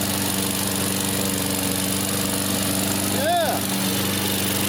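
A small lawn mower engine idles steadily and close by on choke, a continuous droning hum with a brief rising whine near the end; a voice speaks a single short word over it.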